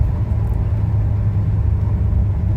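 A Chevy C10 pickup truck rolls along with its engine running, giving a heavy, steady low rumble and road drone heard from inside the cab, with no talking.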